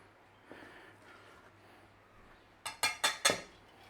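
Ginger powder mixed into self-raising flour in a bowl, a faint stir early on, then four quick, close utensil clinks against the bowl in a steady rhythm.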